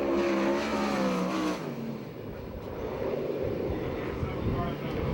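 USAC/CRA sprint car roaring around the Perris dirt oval on a qualifying lap, loud and close at first, then dropping to a rougher, more distant rumble as it carries on down the track.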